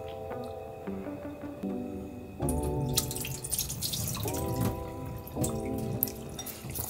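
Basmati rice being lightly washed in water, one cup of grain rinsed by hand in preparation for boiling, giving steady close splashing and trickling water with dripping and running-tap sounds throughout.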